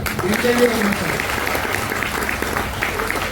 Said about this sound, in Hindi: डर जाइए, जोरदार तालियां।